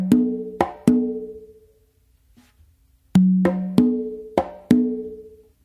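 Conga strokes played in a guaguanco pattern: resonant open tones ringing out with sharp close slaps, in two short phrases split by a pause, crisp and close, with no voices.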